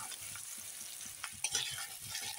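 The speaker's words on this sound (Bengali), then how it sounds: "পেঁয়াজ কুচি এখন ভেজে নেব।" Chopped onions fry in hot oil for a simple spiced meat curry, giving a soft, steady sizzle with light crackles and an occasional stir, heard quietly and with no talking.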